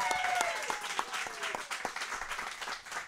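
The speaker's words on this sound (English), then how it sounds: "how about a nice round of applause for our spooky guests this evening?" A studio audience at a Halloween-themed show gives a brief round of applause for guests, scattered claps with distinct sharp hits over a quieter room, fading slightly by the end.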